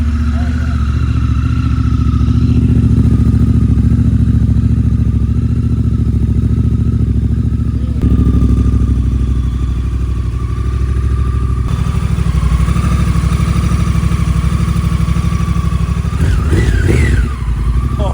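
Deep, steady rumble of an Africa Twin motorcycle with an Akrapovic racing exhaust idling nearby, loud and continuous, with slight shifts in pitch and a voice talking over it.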